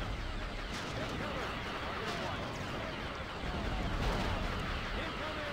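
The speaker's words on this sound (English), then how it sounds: "So many bombs down here" Repeated bomb and gunfire blasts in the Star Wars game Bespin: Platforms, a dense, continuous battle din with scattered booms close by and steady rumble throughout, with a voice speaking over it.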